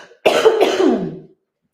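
A single harsh, raspy cough lasting about a second, close to the microphone, followed by silence.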